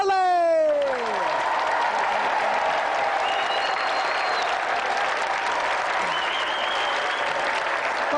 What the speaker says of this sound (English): a round of applause for our challenger, Warren Brazier, and the undefeated champion